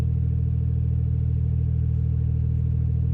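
A drag car launches from a brake-boosted start in a $1,000-pot race, its engine a loud, steady low rumble held close and constant throughout with no voices.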